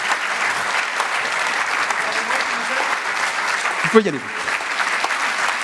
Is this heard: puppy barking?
no